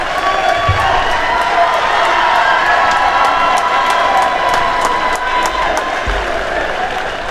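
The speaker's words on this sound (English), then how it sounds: "Crowd gets loud for that." Crowd cheering in a gym at a high school wrestling meet, a loud, sustained roar of voices and clapping with a few shouts and thuds rising from the stands.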